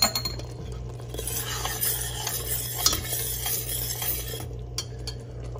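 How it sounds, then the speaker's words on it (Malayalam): A spoon stirs mango payasam in a pan, with soft scraping and light clinks of metal over a faint simmer and a low steady hum in the background. "എന്നിട്ട് നന്നായിട്ട് ഇളക്കുക."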